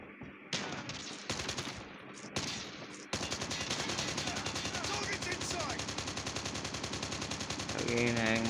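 Call of Duty gunfire: short separate bursts at first, then sustained rapid automatic fire that continues loudly to the end.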